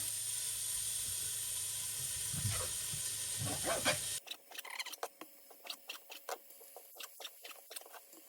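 Meat for a slow-braised jarred meat spread drops into a hot pot with onion, giving a loud sizzling hiss for a few seconds, then settling into quieter, intermittent crackles and pops of frying fat.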